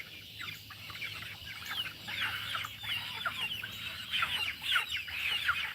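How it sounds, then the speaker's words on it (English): Hens cluck steadily inside a coop, many soft overlapping calls from a small flock rising and falling at close range with no talk over them. "Why are the hens clustered together?"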